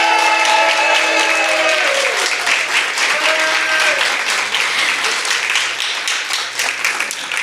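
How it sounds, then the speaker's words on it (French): An audience at a library network gala in Côte-Nord claps together in a sustained, dense round of applause, loud and continuous from start to finish, with a voice and a few tonal sounds briefly heard over the opening seconds. "Encore une fois, un tonnerre d'applaudissements pour Madame Lisette."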